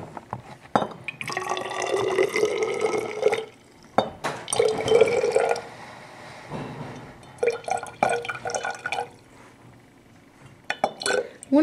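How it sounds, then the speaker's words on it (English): Sodium thiosulphate solution is poured in a laboratory into a measuring container, giving bursts of gurgling liquid flow with short pauses between pours, close and moderately loud. "So I'm going to start by pouring this in."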